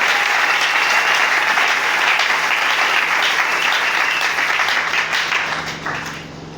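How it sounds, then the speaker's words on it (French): A church congregation applauding loudly, a dense, sustained wash of clapping from many hands that fills the room and fades slightly at the end. "Acclamez très fort."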